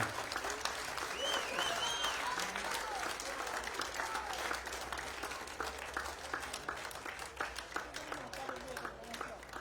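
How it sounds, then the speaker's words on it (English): A crowd applauds the 2024 European 13 Dream Team after a rugby league final, steady sustained clapping that gradually thins, with cheers and voices mixed in. "another big round of applause for our 2024 European 13 Dream Team"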